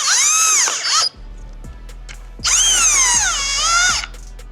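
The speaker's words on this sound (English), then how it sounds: "we'll run them in with the impact" An impact wrench drives 14 mm mount bolts during an AWD VR30 transmission swap, two loud close bursts of high whining hammering, each about a second and a half, separated by a quiet gap with a few faint clicks.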